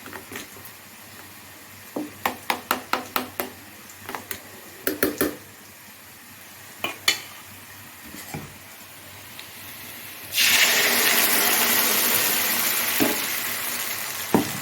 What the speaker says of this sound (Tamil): இந்த மிச்சம் இருக்கிற புளியும் இதில் ஊற்றிடுறோம்